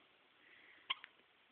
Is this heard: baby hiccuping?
yes